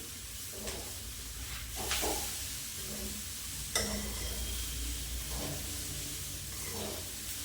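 Spices roast in a pan for a vegetable curry, giving a steady close sizzle with a few sharp scrapes from stirring. No one speaks.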